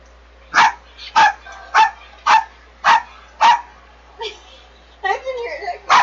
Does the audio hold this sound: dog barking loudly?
yes